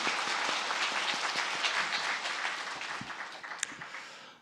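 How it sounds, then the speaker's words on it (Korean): Applause from a church congregation at a New Year Sunday worship service, a dense, steady wash of many hands clapping that carries on throughout and slowly fades toward the end. "큰 박수로 격려하고 축복하겠습니다"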